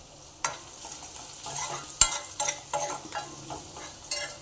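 Ginger and green chilli fry for a vegetable soup, a soft sizzle broken by repeated spoon scrapes and knocks against the pan, with one sharp clack in the middle.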